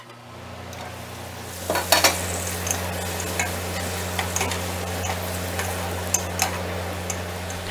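Cauliflower and potato curry with spices being stirred in a pan, with a steady sizzle and a low hum underneath, and scattered scrapes and clinks from the utensil throughout.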